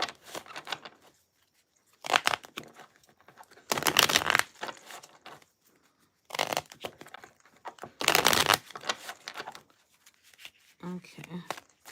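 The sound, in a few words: shuffling cards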